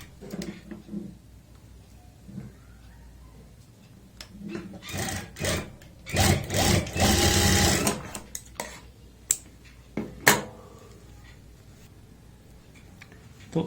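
A sewing machine stitches a shirt or kurti collar in short bursts, with a longer whirring run in the middle and lighter fabric handling and clicks between bursts, close by.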